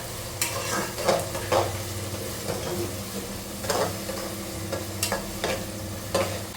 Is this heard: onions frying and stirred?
yes